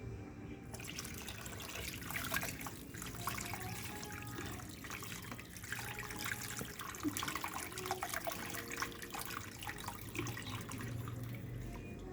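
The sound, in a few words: pouring tamarind water into pan for kara kuzhambu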